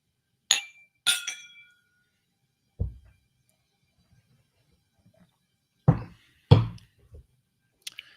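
Glasses clinking together during a New Year bourbon toast, two sharp bright clinks close together, then a few duller knocks and thuds of glassware being set down, close and with no talking.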